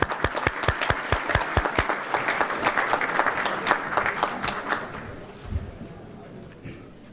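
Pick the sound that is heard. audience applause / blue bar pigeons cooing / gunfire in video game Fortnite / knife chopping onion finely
audience applause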